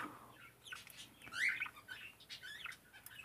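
Budgerigars chirp and twitter in a breeding cage, with several quick, bright calls scattered across a few seconds over a quiet background.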